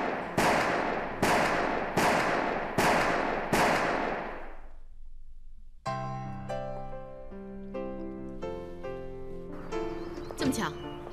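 At a gun club shooting range, about five sharp, loud shots ring out in an evenly spaced series, each with a short decaying tail, before music takes over.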